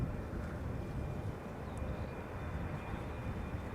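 A distant airliner approaching to land on runway 27 at Schiphol Airport, a long-haul arrival from Cape Town, gives a steady low rumbling drone that holds evenly and faintly throughout.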